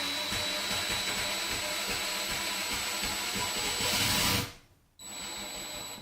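Power driver backing out a cheap screw from a workbench, whirring loudly and steadily up close for several seconds before cutting off, then a brief return of the motor.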